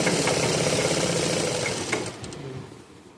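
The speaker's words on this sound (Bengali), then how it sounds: "এই যে সেলাইটা করতেছি এটা বলা হয় দূরত্ব সেলাই" A sewing machine runs steadily while stitching fabric for a distance seam, a dense whirring rattle that holds level then eases off toward the end with a few clicks.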